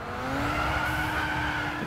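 Pagani Huayra tyres squealing under heavy wheel spin in Gran Turismo 6, a sustained screech over a steady engine drone, loud and continuous with no talk.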